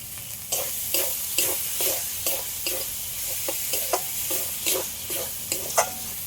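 Spice masala with a little sugar is sautéed in a pan, a steady sizzle broken by rhythmic spoon strokes scraping the bottom every half second or so, close and fairly loud with no voices.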